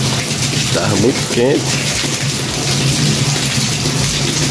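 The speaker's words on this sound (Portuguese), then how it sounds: "Mas hoje, graças a Deus, tá aí. É chuva por força." Heavy rain falls in a steady close hiss on Ash Wednesday, with water gushing from a spout nearby, while someone speaks Portuguese over the downpour.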